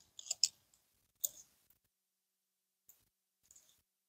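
Pruning shears snip a climbing rose cane, a few crisp close clicks and short rustles with quiet gaps between them, faint overall and with no talking.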